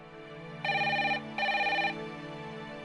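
A telephone rings twice in a dubbed TV drama, two bright electronic trills separated by a short pause over a low background hum.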